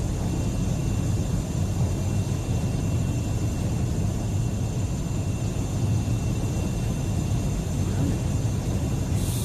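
An aircraft flies just after takeoff from Niagara Falls International Airport in a VR flight game, a steady, loud broadband engine and wind drone that holds without a break.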